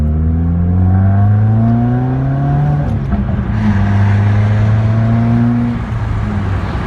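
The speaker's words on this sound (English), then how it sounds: "I'm gonna do a little pull right now, just so you guys could hear the sound of the car" A turbocharged 2015+ Subaru WRX with a COBB intake pulls hard through the gears, pitch climbing then dropping at each shift, loud and close with steady wind rush underneath.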